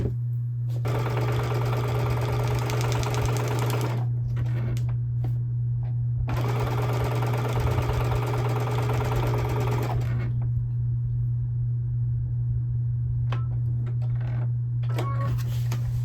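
A sewing machine stitches quilting lines across a quilt, running in two steady bursts of rapid mechanical chatter separated by a pause, then lighter handling noises, all over a constant low hum.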